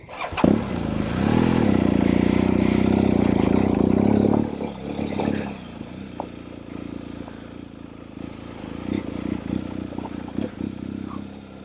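A motorcycle idles loudly close by, then revs and pulls away, its engine note dropping to a lower, uneven drone as it rolls along a leaf-covered trail.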